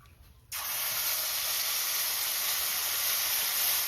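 Ground spice paste hits hot oil, already tempered with whole cumin, dried red chillies and bay leaves, and bursts into a loud, sudden sizzle. The sizzle holds steady and hissing after a brief quiet start.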